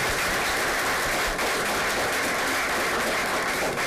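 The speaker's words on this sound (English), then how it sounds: "So let's give them a round of applause." Steady, dense clapping from an audience at a school board meeting fills the room evenly, with no pauses and no talking.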